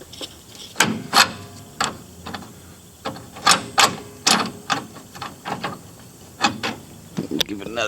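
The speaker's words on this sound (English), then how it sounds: "We're just going to hook up a ratchet strap and hopefully we can get it pulled into place." A ratchet strap is cranked tight to pull part of a budget Chevelle into place in a garage, giving a series of sharp clicks in uneven bursts, close and fairly loud.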